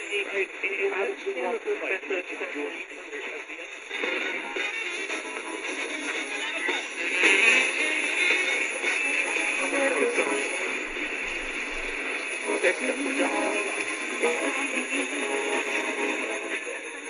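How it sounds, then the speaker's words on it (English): Medium wave radio broadcast heard through an Eton FR-200 radio in the evening, a thin, band-limited signal with faint music and voices under constant static and hiss throughout. "I heard some jazz or something going on there."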